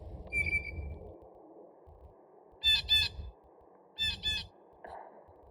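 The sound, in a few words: blue jay calling outside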